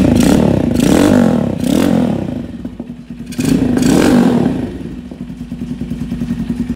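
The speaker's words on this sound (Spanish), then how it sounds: "El full system que le fabricamos, que suena muy chido." Screamer 250 motorcycle with a custom full exhaust system fitted with a dB killer, revving repeatedly in loud, throaty bursts with clattering mechanical noise between pulls, close up.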